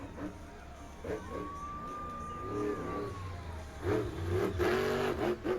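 A monster truck engine revs at a Versus Monster Trucks event in Ransomville, NY, with loud rising and falling engine roar and a sustained high whine over steady crowd and arena noise.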